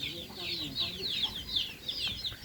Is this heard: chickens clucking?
yes